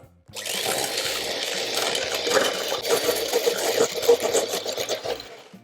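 A small, broken electric mixer whips meringue, whirring with a rattling, uneven mechanical buzz, close up and continuous, with clicking knocks as it runs.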